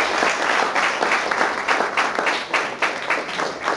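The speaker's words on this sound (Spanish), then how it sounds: "Les pido un fuerte aplauso para ellos." A room of listeners at a talk with the ambassadors of Argentina and Ecuador gives the ambassadors strong applause, full, loud clapping with a pulsing, rhythmic texture over several seconds, near and without speech.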